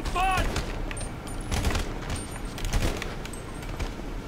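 Gunshots fired at zombies in a GTA 5 zombie mod, several sharp bangs spaced irregularly among game noise, with a player talking over the action.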